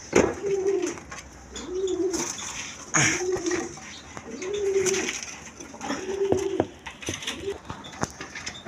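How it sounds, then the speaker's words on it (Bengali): Afsani girijal pigeons coo in a steady repeating pattern of soft rolling calls, close by, with occasional sharp clicks and faint background noise between the coos. "এখানে আরেক জোড়া আফসানি গিরিজাল কবুতর আছে"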